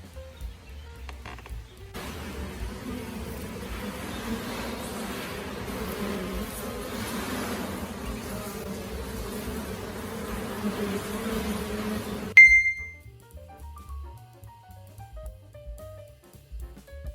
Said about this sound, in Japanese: ニホンミツバチ群の分割をします。